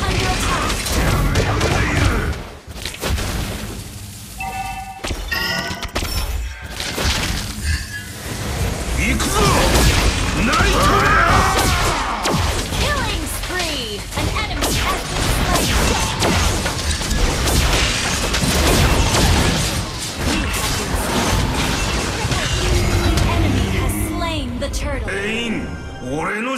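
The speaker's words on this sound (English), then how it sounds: "Our turret has been destroyed." Turret destruction in the Mobile Legends game: dense, continuous battle effects with booms, crashes and whooshing impacts, loud and layered throughout with game voice lines over the top.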